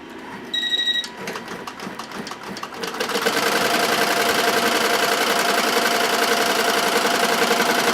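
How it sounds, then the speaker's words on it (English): An embroidery machine starts up and settles into a fast, steady mechanical stitching rattle, loud and close, stitching around sublimated photo fabric on a shirt, preceded by a short beep and some handling noise, with no talk. "We're going to do some embroidery."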